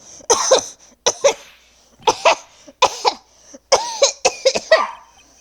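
Repeated harsh coughing fits from the Phoenix Wright: Ace Attorney – Trials and Tribulations game, about seven loud, close bursts of one to three coughs each, spaced through the clip with short silences between them.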